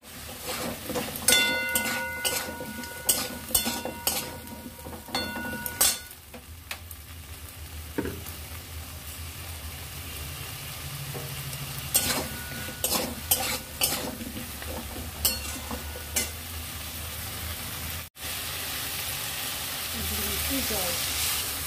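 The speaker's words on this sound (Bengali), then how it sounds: "কচুগুলো দিয়ে বেশ কিছুক্ষণ মশলার সাথে ভালো করে নাড়াচাড়া করে নেব।" Taro pieces are stirred with spices in a hot pan, with scraping utensil strokes in bursts over a steady sizzle and hiss, close by.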